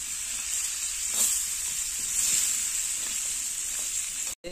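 Two crabs fry Malvani style in a hot pan, a steady bright sizzle with crackling spikes and soft stirring taps close up, cutting off abruptly at the end.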